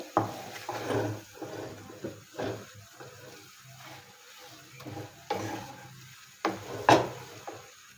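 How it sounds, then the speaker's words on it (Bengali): Egg pasta being stirred and mixed with sauces in a pan, giving irregular scraping and clinking bursts of a utensil against cookware with quiet gaps between strokes, close by and without speech. "তো সসগুলো দেওয়ার পর একটু ভালোভাবে নেড়ে চেড়ে মিশিয়ে নিচ্ছি"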